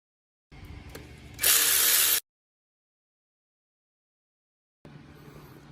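Ratchet working T40 bolts off the timing variators of a 2013 Range Rover L405 Supercharged, giving a short run of close clicking that turns into a louder burst, then silence and a brief return.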